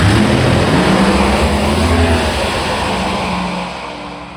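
A drag racing car launches and accelerates down the strip, a loud, steady engine roar with rising tonal drone that holds for several seconds and then tapers off as it moves away.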